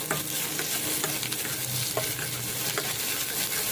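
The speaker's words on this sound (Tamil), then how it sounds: "நல்லா டீப் ஃப்ரை ஆகட்டும்" Sliced onions deep frying in hot oil, a steady loud sizzle with occasional stirring scrapes and pops running throughout, no voices.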